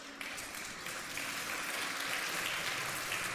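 Congregation applause during a church sermon, a steady, fairly quiet wash of many hands clapping that holds evenly throughout.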